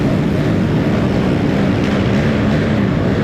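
Pit bike engines race around a motocross track in a steady, loud, continuous drone that holds level without a break, with no talking.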